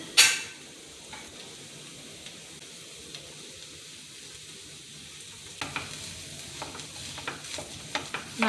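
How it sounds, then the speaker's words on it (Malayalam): Potatoes tossed into a hot pan with turmeric sizzle and fry softly while a spoon stirs and scrapes, giving faint clicks and scuffs over a low steady hiss, for aloo paratha filling. "മഞ്ഞൾപ്പൊടി ചെറുതായിട്ട് ചൂടായിട്ട് നമുക്ക് ഉരുളൻകിഴങ്ങിടാം"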